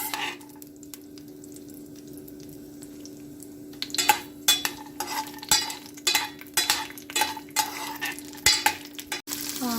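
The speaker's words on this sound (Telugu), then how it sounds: "పల్లీలు వేగుతున్నాయండి." Peanuts roasting in a pan for watermelon rind pachadi: a quiet low hum at first, then repeated scraping stirs and rattling nuts against the metal pan, close and uneven in rhythm.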